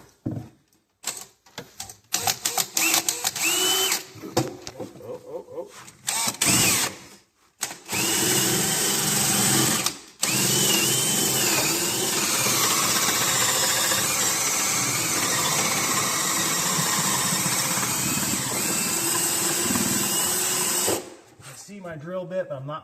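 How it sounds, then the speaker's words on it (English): A power drill bores a hole during a service call, whining in long sustained runs broken by brief pauses, with a loud close motor and short talk between bursts. "Kind of want to wiggle that drill bit around a little bit so that way you get a nice porthole in."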